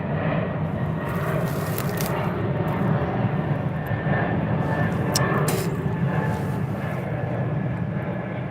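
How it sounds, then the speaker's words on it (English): A fixed-wing airplane passes overhead during a live outdoor fishing session, its engine roar steady and loud throughout with no letup, as a broad continuous rumble. "And I'll let this plane pass."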